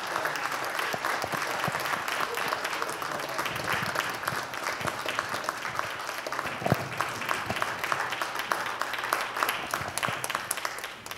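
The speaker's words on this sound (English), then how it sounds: "Please give them a round of applause." Sustained audience applause welcoming a band onto the stage at a Black History Month musical celebration, dense even clapping from a large crowd holding steady and fairly loud for over ten seconds.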